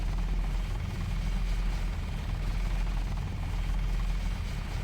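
A helicopter in the Deus Ex video game, played with the GMDX mod, gives a steady, loud rotor and engine drone that holds evenly throughout with no talk over it.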